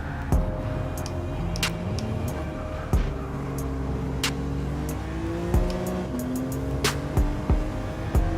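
A BMW race car in the Gran Turismo 7 video game revs hard and shifts through gears, its engine note climbing and dropping repeatedly, loud and close throughout with brief tire noise.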